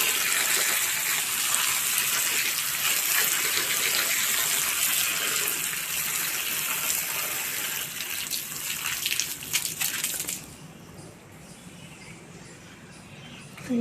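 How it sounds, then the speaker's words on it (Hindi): Strong running water gushes steadily over muddy leafy greens (saag) being washed, a broad continuous rush that stops abruptly near the end, leaving a quieter background. "देख सकते हैं इसे काफ़ी मिट्टी चढ़ा हुआ है, इसको कैसे तेज़ पानी से साफ करेंगे,"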